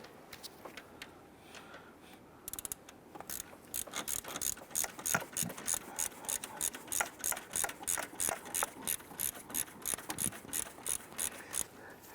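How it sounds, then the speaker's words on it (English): Close, crisp ratchet clicks come in a steady rhythmic series as a bolt on the alternator of a 2005-2010 Chrysler 300 is snugged up, faint at first and then regular bursts of pawl ticking. "I'm gonna snug up this bolt just to the point where it takes up this gap here, yet the alternator is mobile."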